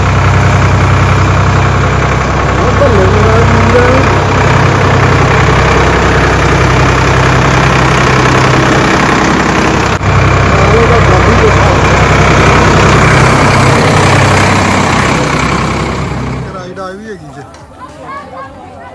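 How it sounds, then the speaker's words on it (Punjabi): A tractor engine runs steadily at an outdoor village fun spot offering tractor rides, its loud mid-to-low drone holding under a background of crowd chatter before fading out near the end. "ਸਾਡਾ ਵੀਰ ਟਰੈਕਟਰ ਚਲਾਉਣ ਦਾ ਜੀ"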